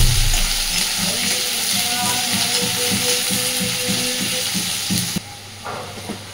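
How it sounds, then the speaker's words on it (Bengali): Onion and potatoes frying while being stirred for a fish curry, a steady loud sizzle with rhythmic scraping strokes that eases near the end, no voices. "আলুর সাথে পেঁয়াজটাকেও নাড়াচাড়া করে ভেজে নেব।"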